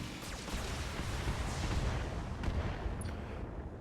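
Heavy mech weapons fire, including SRM missile shots, in the Battletech video game, heard as a muffled, steady rumble of distant blasts and booms with a few sharper impacts near the end.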